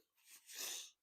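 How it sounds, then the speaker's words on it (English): A single person's faint sneeze, a brief breathy intake followed by a sharp hissing burst about a second long, close to the microphone in a quiet room. "I was trying to finish the show without sneezing."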